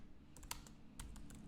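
Quick keystrokes on a computer keyboard while typing a command into a terminal, a short burst of about eight clicks, close and clear with no talking.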